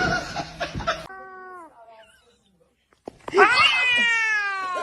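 A kitten meows twice, a drawn-out falling mew and then a louder, longer cry after a pause, preceded by brief talk and laughter.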